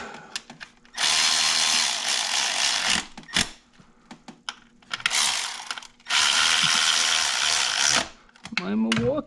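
A Milwaukee power ratchet tightens a spark plug on a 2010 Nissan Murano in two long, loud whirring bursts with a gap of quieter clicks and handling noise between them, recorded up close in a garage.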